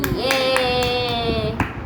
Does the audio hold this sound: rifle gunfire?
no